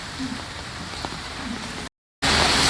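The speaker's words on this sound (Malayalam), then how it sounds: "മഴ ശക്തി പ്രാപിക്കുക കേട്ടോ ഭയങ്കര മഴ" Heavy rain pours down at Pala, a dense, steady patter that fills the clip at even loudness, broken by a brief silent gap before a louder burst of rain.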